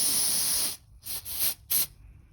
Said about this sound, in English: so got like a can of spray, and that will run down inside that crack